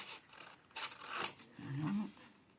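Scissors snip through paper during a Christmas craft project, a few quiet crisp cuts close by with light handling noise and a faint low hum.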